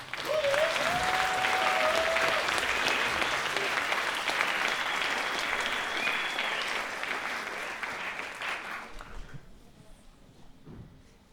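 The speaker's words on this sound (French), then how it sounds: "sous vos applaudissements" Applause from a live stage audience at a comedy and storytelling evening, with a steady dense roar of clapping that slowly thins and fades out toward the end.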